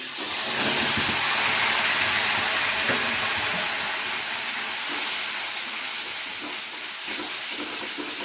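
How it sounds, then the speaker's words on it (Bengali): Onion paste frying in oil for a Bengali koi fish curry, a continuous loud hissing sizzle with faint stirring clatter, no talking. "পেঁয়াজটাকে কিছু সময় ধরে খুব ভালো করে ভেজে নেব, হালকা বাদামি কালার না হওয়া অবধি।"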